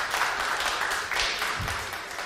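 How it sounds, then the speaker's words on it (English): A church congregation gives a hand to the women of the church, a short burst of dense, steady clapping from many people filling the room for about two seconds. "All the men, give a hand to the women of the church today."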